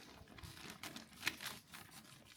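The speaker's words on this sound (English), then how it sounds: "We'll open the croissants first." Scissors cut open the plastic packaging of frozen Pret croissants from Iceland. The sound is faint and close: soft crinkling and rustling, then one sharp snip partway through.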